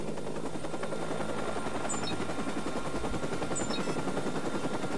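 A helicopter in the video game Watch Dogs drones steadily up close, its rotor thrum continuous and loud, with sharp game sound effects chirping briefly over it and no talking.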